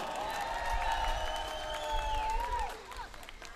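Crowd applause and cheering for a singer at a live winter-holiday concert in Buzau, a steady moderate wash of clapping running under sustained musical tones for a few seconds before easing off.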